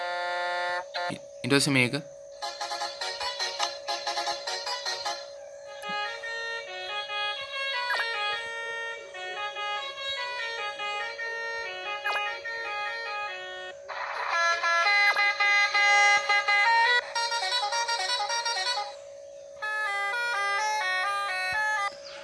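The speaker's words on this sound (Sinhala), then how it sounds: "ඉතින් අපි මේකේ හෝන්ස් බලමු මේ නෝමල් හෝන් එක" Bus horns from the Driving Simulator Sri Lanka video game, a series of sustained electronic honks and melodic multi-tone horn calls sounding loud and close, with a brief spoken phrase early on.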